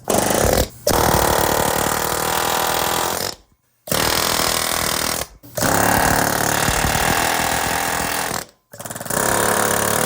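An air chisel hammers loudly on a Can-Am X3 side-by-side during disassembly, rattling in long continuous bursts broken by short pauses.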